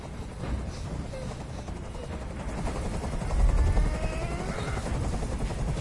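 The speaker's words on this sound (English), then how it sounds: "I can't stand that noise anymore. Tell that helicopter to get out of here." Steady low rotor thumping of a helicopter in the video game Detroit: Become Human fills the scene, swelling slightly midway, with faint background voices and scattered sharp noises.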